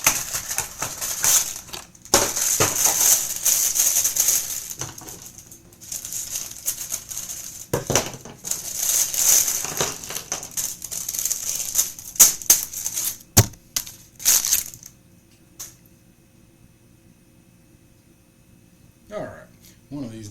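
Hasbro toy packaging paper crinkles and crushes during an unboxing, in loud irregular bursts of rustling and crackling that fade into near silence for the last few seconds.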